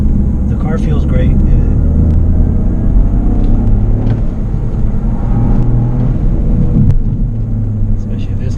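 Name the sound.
Toyota GR Corolla driving on a mountain road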